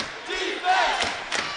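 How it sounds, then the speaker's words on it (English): Crowd at a college basketball conference semifinal raising loud, sustained defense chants and cheers, steady and fairly near, with a few bursts swelling over the din and no clear talk on top. "Defense chants coming from the crowd"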